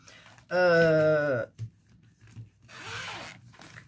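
A single quick zipper pull on a cross-stitch accessory pouch, sharp and close, followed by a couple of soft rustling handling sounds.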